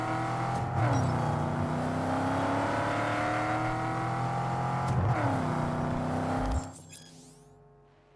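A car engine in the video game Cyberpunk 2077, a vehicle styled after the Dukes of Hazzard car, revs and shifts with rising pitch sweeps, loud and close, then cuts off abruptly near the end.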